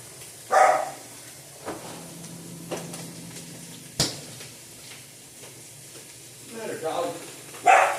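A dog barks a few times at moderate distance in a home kitchen where vegetables are being cooked, with faint frying sizzle in the background and someone talking.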